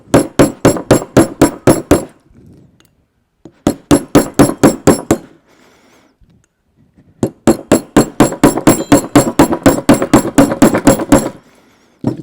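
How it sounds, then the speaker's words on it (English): Loud, close metal hammer blows deforming a bushing from a GM Turbo Hydra-matic 4L80E transmission, delivered in quick rhythmic volleys with short pauses between, the final run longer and denser. "We might have to hammer it a little bit more, but eventually we'll get it deformed enough"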